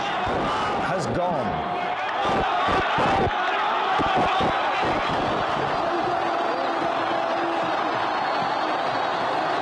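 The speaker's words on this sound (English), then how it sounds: "Listen to that crowd. That's what they've been waiting for." Large crowd cheering and roaring in celebration of Hosni Mubarak's resignation in Egypt, a dense, sustained wall of voices with scattered shouts and bangs, a voice speaking briefly over it.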